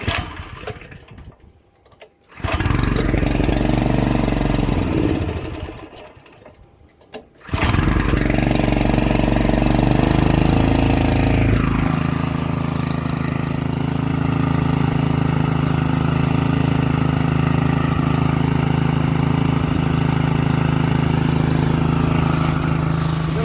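A Honda GX200 clone small engine, freshly carburetor-cleaned, makes two short cranking attempts with pauses, then fires and runs, settling into a steady close droning idle for the rest of the clip, with no talking.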